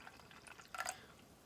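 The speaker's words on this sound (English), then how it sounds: "we'll go ahead and pour" Pink liquid poured into a container, a faint, brief trickle with a small splash near the end, close and quiet, without talking.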